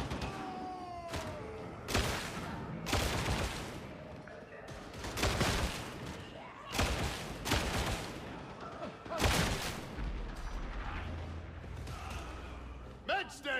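Grenade blasts in Warhammer 40,000: Darktide burst out in a string of loud explosions amid heavy combat noise, with several booming hits spread across the fight as people talk throughout.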